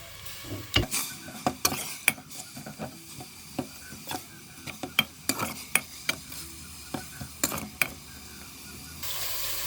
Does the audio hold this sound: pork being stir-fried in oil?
yes